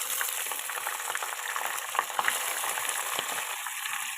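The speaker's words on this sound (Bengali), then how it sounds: "এবার আমি ঘিয়ের মধ্যে ভালো করে একটু ভাজা ভাজা করে নেব।" A busy, crackling sizzle of rice frying in ghee, with light scraping and stirring noises mixed in, close and steady.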